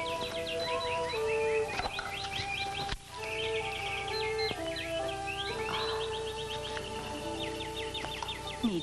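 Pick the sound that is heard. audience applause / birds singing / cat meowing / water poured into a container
birds singing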